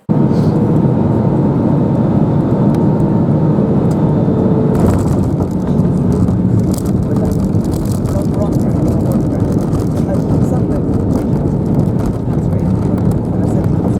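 An EasyJet Airbus A320 lands on the runway at Edinburgh Airport, heard from inside the cabin as a loud, continuous roar that turns rougher and more rattling partway through as the wheels meet the runway.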